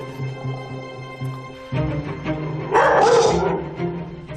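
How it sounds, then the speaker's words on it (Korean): A dog barks aggressively at a stranger during a dog-behavior training session: a few loud, close, harsh barks that grow into an intense burst of snarling and yelping, with whiny tones between. "설쌤의 등장에 무섭게 짖기 시작하죠"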